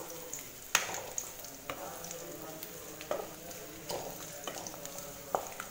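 Garlic cloves sauté in a pan for a spicy kuzhambu, a soft, steady frying crackle punctuated by sharp stirring taps and clicks at irregular intervals, close by.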